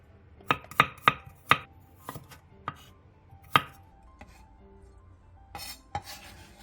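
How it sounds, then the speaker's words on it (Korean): A kitchen knife cuts the green part of a leek-style green onion into short lengths and slices garlic cloves on a cutting board. Sharp, close, uneven chops come in quick clusters with pauses between them, and no one speaks. "대파의 초록 부분 2분의 1개를 3cm 정도 길이로 자르고 마늘 열알을 편 썰어 주세요."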